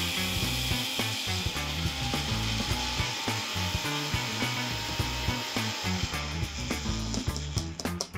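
Grinder milling ingredients into a fine powder, a steady loud whirring roar with rough rubbing, grinding texture that stays continuous and close throughout.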